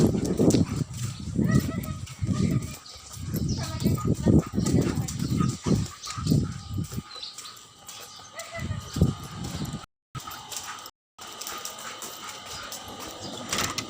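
A dog moves and pants or huffs close by, with thumps and rustling, in a kitchen while people talk over it; a brief dropout cuts the sound twice near the end.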